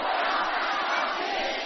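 A studio audience at a Chinese variety show greets the first contestant with a dense roar of clapping and cheering, loud and continuous throughout.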